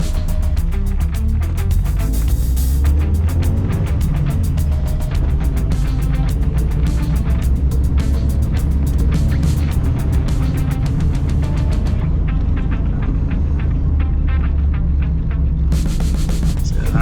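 A Volkswagen Golf Mk1 under rebuild drives along, its engine and road noise forming a loud, continuous rumble with steady low drone throughout, no voices heard.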